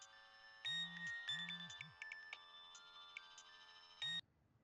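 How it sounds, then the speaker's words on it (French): A telephone rings in short repeated bursts, two long rings then a brief one, a pause, and a final ring, clear and close over a faint steady electronic tone with no talk. "Le téléphone sonne."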